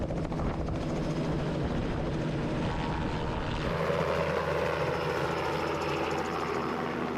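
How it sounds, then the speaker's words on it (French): A helicopter used to resupply stranded dogs during a flood flies nearby, its rotor producing a loud continuous thrumming chop that shifts tone midway as it passes. "Et ça se fait par hélicoptère."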